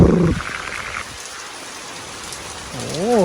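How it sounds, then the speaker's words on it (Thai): Steady rain pours down at a small rural garden house, a close, even hiss of drops on surfaces, with short tonal sounds at the start and end. "เอาบรรยากาศฝนตกมาให้ดู"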